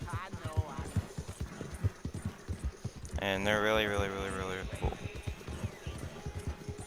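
A horse's hooves clip-clop in a video game as a rhythmic train of light thuds under continuous talk by a man, with a brief tonal burst midway.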